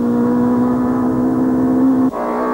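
BMW touring race cars in the 1993 Belgian Procar season, a sustained engine note holding a steady pitch and then dropping abruptly near the end, loud and close.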